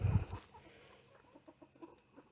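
Soft, scattered clucks from chickens and chicks sound in quick irregular succession after a brief low thump at the start, fairly close and quiet.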